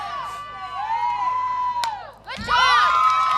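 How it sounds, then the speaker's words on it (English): Spectators at a girls high school softball game, Natick versus Attleboro, raising a burst of cheering and high shouts that swell near the end, heard close and fairly loud. "you can hear the crowd"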